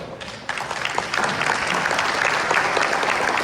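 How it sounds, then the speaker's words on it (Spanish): Loud audience applause at a corporate buyers' day celebration, dense continuous clapping from a sizable crowd that swells after the first half-second and holds steady to the end. "queremos iniciar un poquito con un aplauso para ustedes, por favor."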